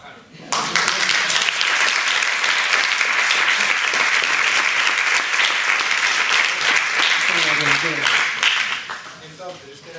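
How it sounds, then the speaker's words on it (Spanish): Sustained audience applause at a medical lecture on the heart after a heart attack, loud and steady for most of the stretch, then fading near the end as a voice begins speaking. "Y por eso yo pido ahora otro aplauso para el profesor José Regino Peña"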